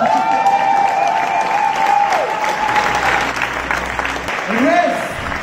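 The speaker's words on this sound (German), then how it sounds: "Applaus!" Audience applause and some cheering at a live stage show, loud sustained clapping from a crowd, with tonal sounds and a voice audible over it.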